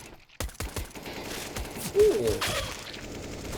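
Rifle shots ring out in a Counter-Strike match, a sharp burst of several quick cracks followed by further scattered shots amid game noise, with a brief exclamation from a voice.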